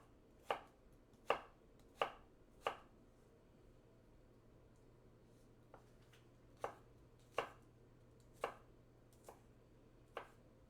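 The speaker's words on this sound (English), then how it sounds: "dealt with chopping onions." Knife chopping onions for a cowboy bean stew, a series of sharp, crisp chops against a cutting board in two loose bursts with short pauses between, close and fairly quiet over a faint steady hum, no talking.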